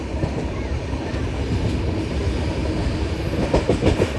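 The 12796 LPI-BZA Intercity superfast express train runs along with a steady, heavy rumble, and rhythmic wheel clatter builds toward the end.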